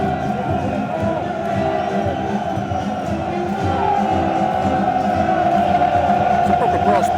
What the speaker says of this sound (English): It's a proper brass band playing this